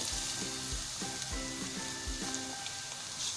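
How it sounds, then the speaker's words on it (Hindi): Onions sauté in a pan with a soft, steady sizzle and crackle, and a few dull knocks from stirring, fairly quiet and close, with no talking. "तो यानी कि 1 मिनट हो चुका है प्याज को सौते करते हुए।"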